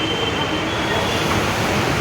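Hyderabad metro train running, a loud steady rumbling roar of wheels and rail noise with a broad constant hiss, heard up close from inside or beside the train.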